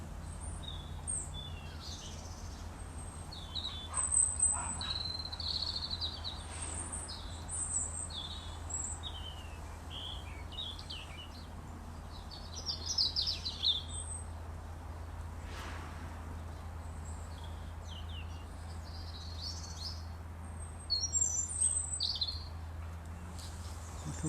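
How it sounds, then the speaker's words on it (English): Outdoors, a robin sings in bursts of high, thin warbling phrases over a steady low background rumble, fairly faint and somewhat distant, with no talking. "that's a robin, the one with the beautiful singing voice"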